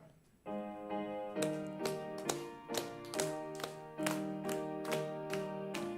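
Sharp, even claps land on every beat over sustained, organ-like music, as a church congregation claps along in steady rhythm during a hymn at a Sunday service.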